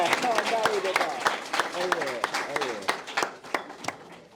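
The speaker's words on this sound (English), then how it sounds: "let's clap it up for us" Scattered, irregular claps from a graduation audience sound under lively voices talking and exclaiming, with a few sharp individual claps standing out among the talk.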